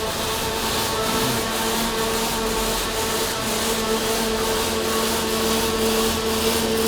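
A robotic welder works on a Fruehauf trailer coupler plate, giving a steady, continuous buzzing hiss with a faint rhythmic pulse and a low hum underneath, unbroken and even in loudness throughout.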